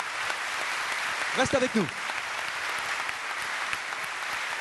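An audience at an award ceremony applauds in a steady, broad wash of clapping that continues throughout, with a brief spoken phrase rising over it partway through.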